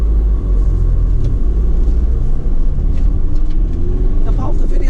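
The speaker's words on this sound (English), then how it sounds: "Firstly, let's get the engine started up." A 2015 Ford Transit crew cab tipper truck's diesel engine idles with a loud, steady low rumble close by, the engine note holding even throughout.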